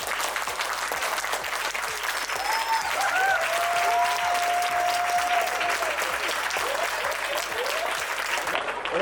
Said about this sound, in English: clap it up for Andrew Jones.